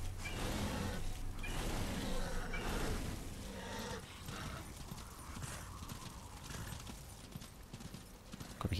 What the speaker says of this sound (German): Gott sei Dank, ich kann wieder mein Pferd rausholen.